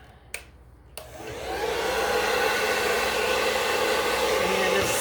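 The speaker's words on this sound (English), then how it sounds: "So if you take your blow dryer, I'm gonna do mine on low." A blow dryer set on low, used for drying a fall pumpkin craft project, switches on after a couple of faint clicks and runs as a steady, close whooshing hum to the end.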